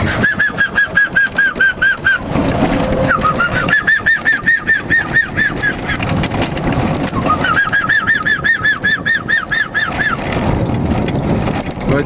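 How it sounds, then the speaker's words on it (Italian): Repeated harsh, raspy cockatoo calls come in rhythmic bursts with short pauses, mixed with other birdsong and some background noise, fairly close and loud, at a tourist village in Puglia, Italy. "il fantastico suono del canto del pappagallo cacatua"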